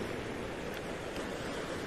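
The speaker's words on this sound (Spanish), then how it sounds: "Escucho cómo cantan las olas tu canción eterna golpeando las rocas" Ocean waves breaking against rocks along a seaside shore, a steady broadband wash of surf and spray with faint wind, continuous and fairly distant, no voices.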